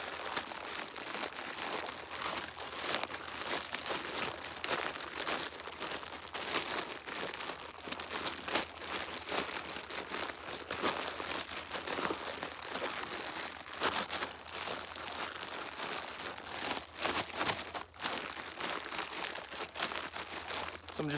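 A bag of shiitake sawdust spawn being broken up and fluffed by hand, giving dense, continuous crinkling and crunching of plastic and packed sawdust close by, with no talk.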